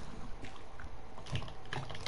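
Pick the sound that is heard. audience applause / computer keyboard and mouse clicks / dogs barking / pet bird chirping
computer keyboard and mouse clicks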